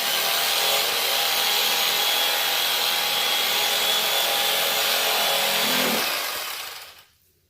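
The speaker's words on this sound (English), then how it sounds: "I like to use this electric knife." An electric knife buzzes steadily and closely while trimming fat off a smoked brisket, running continuously for several seconds before cutting off near the end.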